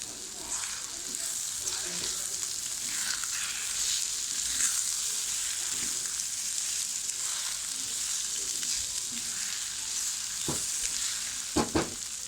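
Two eggs fry with raw tomato in a pan, giving a steady, close sizzle throughout with soft stirring scrapes and a few sharp clinks near the end, without talk.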